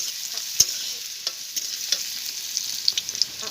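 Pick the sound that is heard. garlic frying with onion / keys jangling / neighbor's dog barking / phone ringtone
garlic frying with onion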